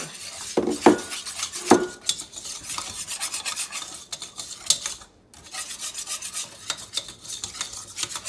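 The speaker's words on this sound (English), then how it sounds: "Just using a wire whisk just to smooth it out" Wire whisk scraping and clinking against a pan while stirring a butter and flour roux, a steady close metallic rubbing with a few louder knocks early on.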